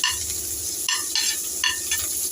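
Chopped onion and curry leaves sizzle steadily in hot oil in a pan for tondli sukhi bhaji, a loud continuous frying hiss broken by a few stirring bursts.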